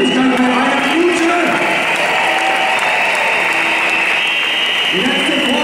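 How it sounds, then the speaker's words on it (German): Crowd applause at the 2012 Berlin six-day cycling race during the final sprint, a steady, dense roar of clapping and cheering that runs the whole time, with a faint sustained tone and some hall noise underneath. "das ist nur mal Applaus für die Siegeskarte bei einer Minute"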